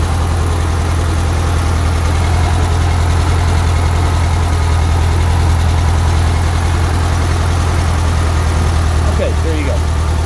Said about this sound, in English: It is the carbureted flat motor, or flat four-cylinder,